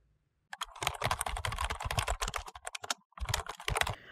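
Code being typed on a computer keyboard: a close, quick clatter of key presses after a brief silence, continuing with a short pause before more typing and no speech.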